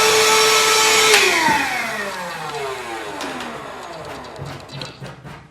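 A vacuum cleaner's motor whines loudly, then winds down with a falling pitch, continuing to hum and rattle more quietly afterward.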